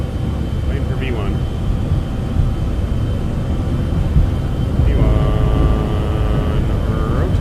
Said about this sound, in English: And takeoff power set. Here we go. Airspeed's alive.